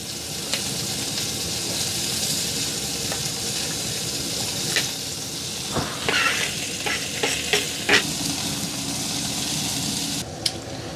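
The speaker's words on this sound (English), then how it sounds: "Next up, some red onion." Red onion sizzles in a frying pan outdoors on an ice fishing trip, a steady broadband frying hiss with a few sharp stirring clicks and scrapes scattered through it.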